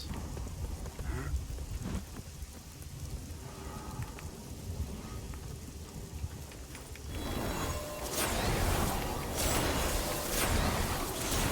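Steady rain falls in a rainy area of a video game, with a soft hiss that swells to a louder, heavier downpour partway through. Occasional low rumbles sound beneath it, and no one talks.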